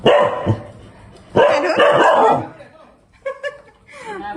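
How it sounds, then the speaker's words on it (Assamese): A house dog barks in a few sharp bursts close by, with people talking around and between the barks. "আজি কুকুৰটো মেলি থ'ম"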